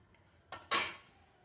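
A spoon knocks and scrapes against a pot of thickening milk kheer, two quick clinks close together and then a louder scraping stroke that fades, all against a quiet room.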